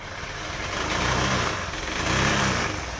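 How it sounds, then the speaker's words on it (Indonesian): Honda Beat scooter with a weak battery, its engine turning over on the electric starter and then running with a steady, fairly loud close-up drone that swells slightly over three seconds. "ini kita tekan starternya teman-teman ya."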